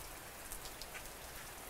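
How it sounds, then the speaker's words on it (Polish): Rain falls steadily in a hunting area outdoors, a dense even hiss of drops with a few faint individual patters, continuous and quiet with no voices. "pogoda nam się zmieniła bardzo mocno i zaczął padać deszcz"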